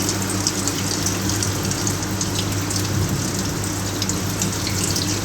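Water runs steadily through a weir and notch apparatus on a lab bench as the flow is slowly increased, giving a constant splashing, rushing wash under a low pump hum.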